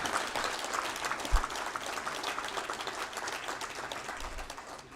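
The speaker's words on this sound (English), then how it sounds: "Let's have a big round of applause" Applause from an audience at a civil society working group conclave in India, a steady dense patter of many hands sustained at moderate loudness for the whole stretch, with no speech over it.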